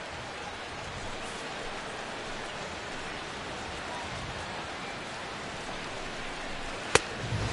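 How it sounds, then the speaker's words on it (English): Heavy afternoon rain pours steadily at a 2017 MLB baseball game, a dense, even hiss that holds the same level throughout, with one sharp click near the end. "That rain is really coming down now."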